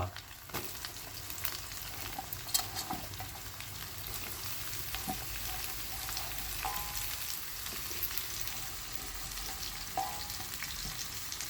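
Onion and chili powder frying in a pan for a curry of spiny gourd, a steady dense sizzle running throughout with occasional faint clicks of stirring, close and fairly even in loudness, no talking.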